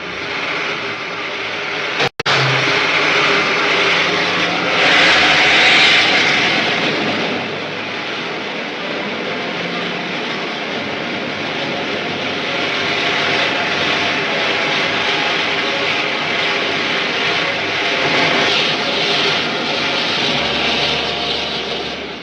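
A spaceship taking off in a 1953 film serial, a steady, loud jet-like roar that starts with a sudden sharp click and holds as a sustained rushing engine drone for the whole stretch.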